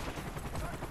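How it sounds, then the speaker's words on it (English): Rapid gunfire from a video game shooter, a dense, continuous crackle of shots filling the short moment at moderate level with no clear pauses. "Oh, they're shooting."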